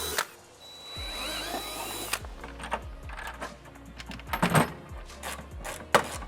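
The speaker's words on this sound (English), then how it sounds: "we'll drill in with a small drill bit, then we'll go larger" A small power drill with a small bit whirs in short bursts nearby while drilling mounting holes for a Subaru WRX STI aero kit, its motor spinning up and down, with clicks and light tool rattles between runs.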